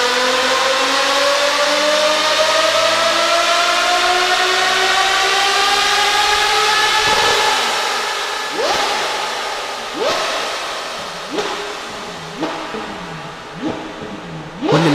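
A Ferrari V12 engine revs hard, with a loud sustained whine that climbs steadily in pitch and then breaks into a series of sharp upshift revs, close and continuous.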